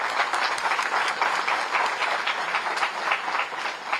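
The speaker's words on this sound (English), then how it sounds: "It deserves a round of applause." An audience at a formal felicitation ceremony for a new Chief Justice of India gives a steady round of applause, even and moderately loud, with no speech over it.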